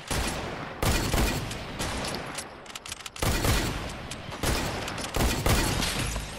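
Bursts of rapid gunfire crack out in Fortnite, loud close volleys repeating in several clusters with brief gaps between them.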